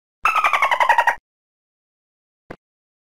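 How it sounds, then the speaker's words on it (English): A dolphin gives a single loud, close run of rapid chattering whistle-clicks lasting about a second, followed by silence and a brief faint click. "Dolphin."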